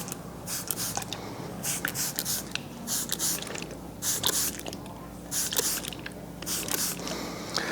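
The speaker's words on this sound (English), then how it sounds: "So just spraying some water back in, just to wet the hair down" A spray bottle mists water onto curly hair, giving a quick series of about a dozen short, hissing spritzes in an uneven rhythm, close and fairly quiet, with no one speaking.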